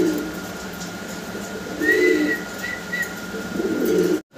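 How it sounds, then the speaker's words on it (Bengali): A pair of fantail pigeons coos in soft, low repeated phrases, with a couple of clearer bursts over steady room hiss. "আচ্ছা দেখেন চমৎকার এক জোড়া ফিলব্যাক কবুতর।"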